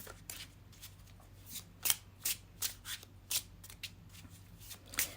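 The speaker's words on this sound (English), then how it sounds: "let's shuffle with intention." Tarot cards are shuffled by hand in a quiet room, giving a run of soft, crisp riffles and taps at an uneven rhythm over low steady hum.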